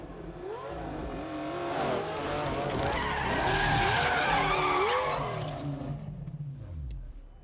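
A car in the racing game Need for Speed Unbound skids and revs hard, its engine pitch climbing and sweeping around as tires squeal, swelling loud through the middle before fading away.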